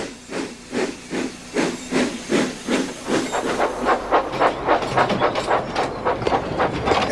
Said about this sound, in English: Edward is chuffing cheerfully through the countryside